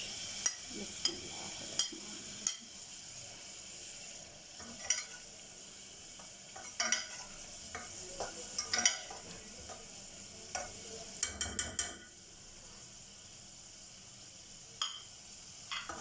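Garlic ginger paste and chicken sizzle quietly in a pan while a utensil scrapes and taps against the metal at irregular intervals, with no voices.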